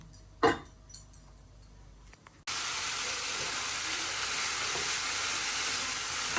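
Spice paste stir-fried in a pan for a small fish curry, a few scraping stirs and clanks at first, then a sudden loud, steady sizzle that holds evenly to the end, close and without voices.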